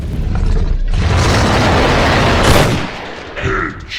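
A gunshot headshot in ARK: Survival Evolved: loud, dense gunfire noise fills most of the clip, with a sharp burst near the middle before it thins out into quieter game sounds.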